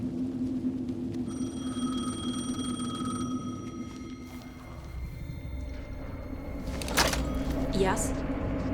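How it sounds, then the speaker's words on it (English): A telephone rings in Alan Wake II, steady repeated tones held over a low droning background for several seconds before a knock and a rustle near the end. "The phone again."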